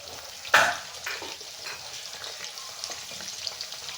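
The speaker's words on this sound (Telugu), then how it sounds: "ఇప్పుడు అది వేగుతుందండి. అందులోనే పచ్చిమిర్చి వేసేసుకున్నాము. ఇది కూడా బాగా వేగాలి." Chicken pakodi with green chillies frying in oil, opening with a sharp hiss as something hits the pan, then a quieter continuous sizzle with occasional stirring.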